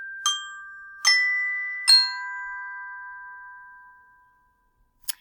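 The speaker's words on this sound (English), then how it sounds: "locate your dinner bell sound, and it should be labeled .mp3" A dinner bell sound effect played back from an mp3 file rings out in three clear, bright dings, each left to decay into a long tone, then a brief faint tap near the end, alone with no talk.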